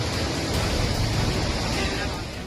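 Raging floodwater pours through flooded streets, homes and a metro station, a loud, steady broadband roar of rushing water with no breaks, close and continuous, easing slightly toward the end.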